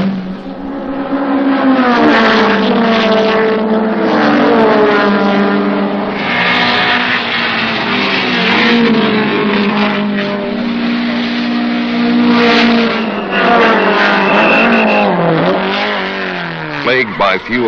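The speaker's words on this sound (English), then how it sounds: "With Downs in front, the Challenger sandwiched Queck's lead Alfa as a wave of hopeful BMWs waited for something to give" Trans Am race cars, a Challenger, Alfa sedans, BMWs and Datsuns, roaring and revving loudly in a continuous pack, engines rising and falling in pitch as they shift and pass nearby.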